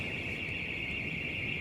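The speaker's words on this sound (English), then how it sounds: "You can hear the car alarms going off." A car alarm sounding in Tel Aviv during a missile attack, a steady piercing electronic tone that holds without a break, with low rumbling background noise underneath.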